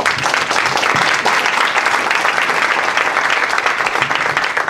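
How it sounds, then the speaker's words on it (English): At a Syracuse mayoral candidate forum, an audience claps loudly and continuously in a dense, even wash of applause that lasts throughout. "Give them a round of applause."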